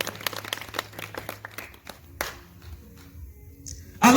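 A church congregation clapping in praise, a burst of scattered hand claps that thins out into a few separate claps, then a sudden loud noise right at the end.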